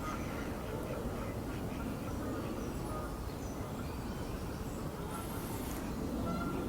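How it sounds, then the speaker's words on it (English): Ducks and other wildfowl quacking by the water on a spring day, faint calls scattered over a constant, loud wash of outdoor background noise. "I'm sitting watching the birds and the ducks and the wildfowl and whatever else is out there."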